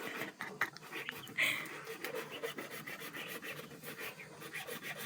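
A hand saw cutting through buffalo horn, a rough rasping stroke repeated in quick irregular rhythm, close and fairly quiet, with faint background noise.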